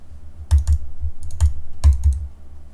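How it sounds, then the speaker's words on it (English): Sharp clicks tapped right beside a HyperX SoloCast microphone on a desk, about eight crisp close-up clicks in irregular pairs and bursts with no talk. "let me click on some things really close to this."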